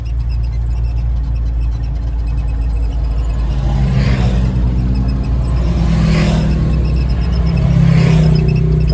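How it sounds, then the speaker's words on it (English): Off-road vehicles and motorcycles rumble and whir past on state land, engines rising and fading in waves over a constant low drone, loud and fairly close. "the off-road vehicles, which you're going to see going by right now"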